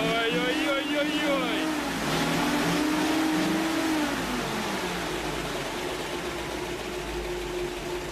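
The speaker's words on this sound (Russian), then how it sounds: "Вы только послушайте, как рычит мотор." A tuned Soviet car engine revs and roars nearby, its pitch sweeping up and down in the first seconds before settling into a steady loud drone, with muffled voices underneath.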